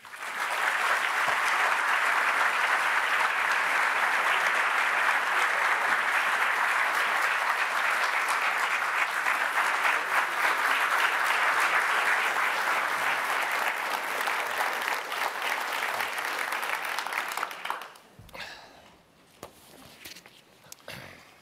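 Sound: audience applause welcoming Larry Thompson and Justice Neil Gorsuch

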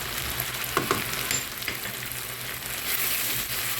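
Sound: frying spices with tomato and onion

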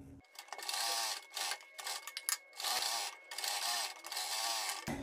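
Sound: sewing machine stitching kurti neck fabric pieces

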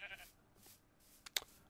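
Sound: goats bleating in TerraFirmaCraft Minecraft video game

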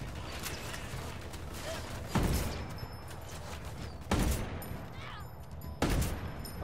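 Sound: gunfire in the video game Ghost Recon: Wildlands

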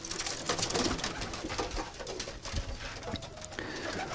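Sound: pigeons cooing

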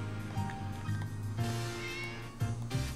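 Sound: cats meowing in the video game Tales of Xillia 2

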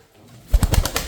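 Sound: birds calling

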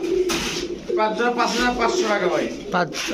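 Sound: pigeons cooing

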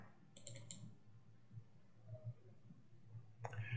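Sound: mouse clicks selecting a method in chromatography software

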